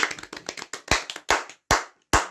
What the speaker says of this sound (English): We could do the applaud at the end.